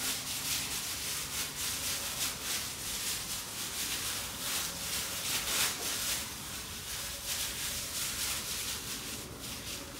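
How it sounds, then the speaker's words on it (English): Hands rub a salt, white pepper, five-spice and bean sauce mixture into slit pork belly, making a soft, steady scuffing and squishing close up, with no voices. "rub this mixture into the meat. Give a good rub."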